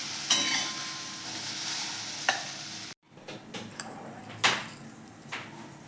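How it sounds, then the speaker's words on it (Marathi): Okra frying in a pan, a steady sizzle with a few sharp scrapes of a spatula, then a brief gap after which quieter sizzling resumes with occasional stirring clinks. "भेंडी मस्त फ्राय झालेली आहे"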